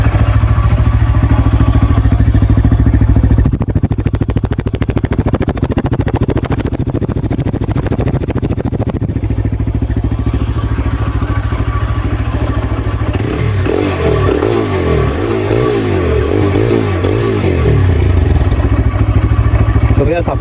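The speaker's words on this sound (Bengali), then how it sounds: "তো বিয়স আমি আপনাদেরকে এখন গাড়িটি স্টার্ট দিয়ে দেখানোর চেষ্টা করতেছি গাড়িটির ইঞ্জিন কন্ডিশনটি কীরকম" A 2023 TVS Raider 125 motorcycle engine runs steadily up close, then is revved in a series of rising and falling bursts near the end, with a constant mechanical clatter underneath.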